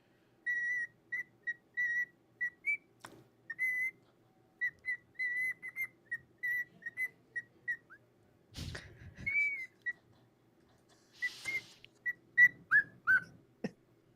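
A bird whistling in a replayed video, a series of short, clear, evenly spaced whistled notes with a few rising chirps, interrupted midway by a brief thump and rustle.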